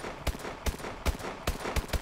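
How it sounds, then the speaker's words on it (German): Gunfire in the video game Call of Duty: Advanced Warfare comes as short bursts of sharp shots, several evenly spaced cracks over a constant background hum, with no talking. "die schießt 5 Schüsse und dann burstet die"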